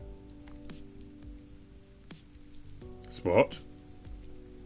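Steady rain falls as a soft, even patter throughout, with a brief louder rustle near the end and a short spoken word.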